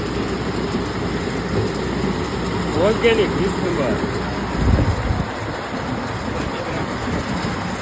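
A groundnut threshing machine runs on a village farm in winter, its steady mechanical drone rumbling continuously near at hand while someone talks over it.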